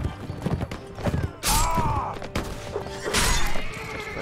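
Galloping horse hooves clatter in a Mount and Blade: With Fire and Sword battle, rapid clip-clop thuds with a horse whinnying and loud bursts of combat noise between them.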